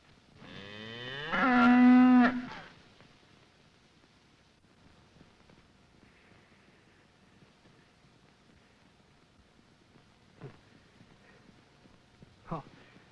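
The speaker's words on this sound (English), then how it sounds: "Oh, it's just a cow." A cow gives one long, loud, close moo lasting about two seconds, followed by quiet with a few faint knocks, in a 1929 film soundtrack.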